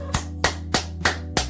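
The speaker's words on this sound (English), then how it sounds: "booty clapping sounds" Five sharp claps land at an even, moderately slow rhythm, each a crisp close smack over a steady low background hum.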